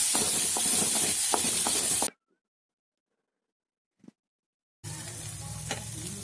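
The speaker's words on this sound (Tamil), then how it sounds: "சேர்த்து நல்லா வதக்கிக்கோங்க" Sliced capsicum sizzles and hisses as it is sautéed in a hot pan, then the sound cuts to near silence before the frying noise returns.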